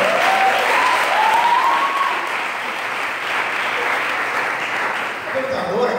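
Audience applause at a theology preaching course, steady sustained clapping filling the whole stretch with a faint voice briefly audible over it.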